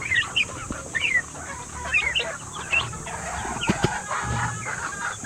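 Hungry young chicks and adult chickens on a backyard poultry farm, with repeated high chirps and clucks scattered throughout, close and fairly loud over a steady hum of farm background noise.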